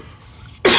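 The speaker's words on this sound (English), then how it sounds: "I'm over here coughing my lungs out." A single sharp, loud cough bursts out abruptly after a short quiet moment, close to the microphone.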